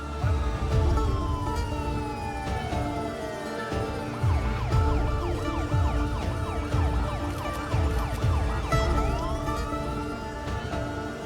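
An ambulance siren wails with rising and falling sweeps, loud and close, over a constant rumbling engine and traffic noise.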